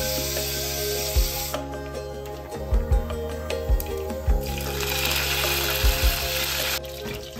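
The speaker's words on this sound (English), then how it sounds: "splutter mustard seeds and fry some curry leaves" Mustard seeds spluttering and curry leaves frying in hot oil, a steady dense sizzle broken by sharp pops and crackles that come in bursts, close and fairly loud with a background hiss throughout.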